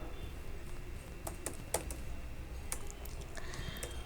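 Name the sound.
typing code on a computer keyboard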